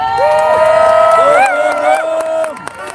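A protest crowd at a Palestinian solidarity march in George Square, Glasgow, cheers and whoops loudly for about three seconds, with long rising shouts and voices carrying over the crowd.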